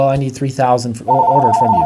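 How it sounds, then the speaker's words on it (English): A telephone rings in an office with a steady electronic tone that starts midway and continues under close, ongoing talking. "I'm sorry about the phone call."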